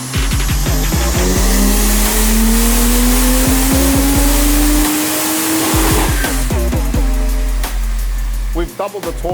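A Stage 3 tuned Ford FPV F6 turbocharged engine revs hard, its pitch climbing steadily, then drops off into sharp pops and crackles before revving again.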